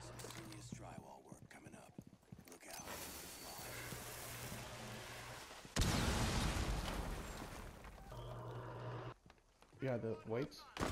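A grenade detonates in Rainbow Six Siege during a hostage extraction in the House map, a sudden loud blast with a rumbling tail cutting through quieter footsteps and movement, while a person speaks before and after.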